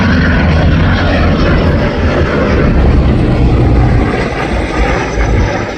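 A Lockheed P2V-7 Neptune flies at the 2024 Shellharbour airshow, its propeller engines producing a loud, close, continuous roar that fills the whole clip.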